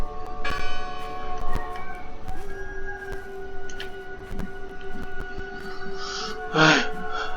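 Bell ringing in the video game Draugen, a resonant toll with a long humming decay, struck again a few times and lingering under a brief, faint voice and quiet ambient game sounds.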